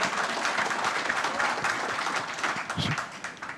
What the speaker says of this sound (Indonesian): Prabowo memberikan hormat kepada Ketua Umum Partai Golkar Erlangga Hartarto yang disambut riuh dengan tepuk tangan kader Golkar